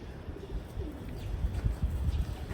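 Pigeons coo from a building down the street, low soft calls repeating faintly under steady outdoor background noise.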